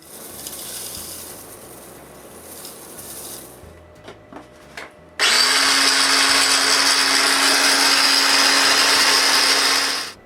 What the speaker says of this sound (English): After measuring a half spaghetti jar of shellac flakes, I grind it all